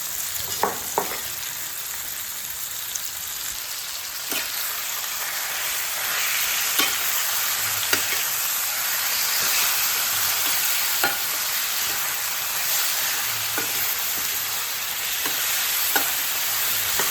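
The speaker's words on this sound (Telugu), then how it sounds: "ఇందులో మ్యారినేషన్ చేసి పెట్టుకున్న చికెన్ వేసి మిక్స్ చేసుకోవాలి." Marinated chicken for chicken fry sizzles loudly in a pan while being stirred, a continuous close frying hiss broken by occasional scraping clicks of the spatula, with no voices.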